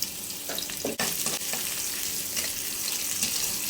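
Onion sizzling in hot oil in a pan for a home-cooked fried rice dish, a steady bright hiss throughout with a few stirring scrapes and clicks near the start, close and fairly loud.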